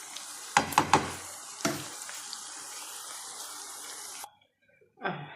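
Sorrel leaves tipped into onions frying in a pan give a steady sizzling hiss with a few louder crackling bursts near the start, cutting off abruptly and returning briefly at the end.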